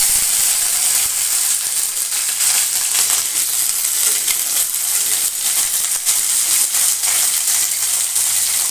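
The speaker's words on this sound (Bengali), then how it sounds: "এই যে এদিকে উচ্ছেগুলো ভেজে নিচ্ছি।" Bitter gourd pieces frying in oil in a wok for a shukto dish, with a loud, dense, unbroken sizzle throughout and faint crackles on top.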